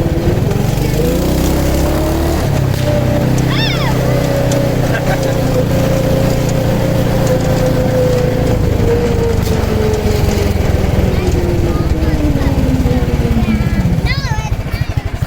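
A Predator 420cc go-kart engine with a 40 series torque converter runs close and loud, its pitch swelling and easing in a long rev, while brief squeaks and a voice come through near the end.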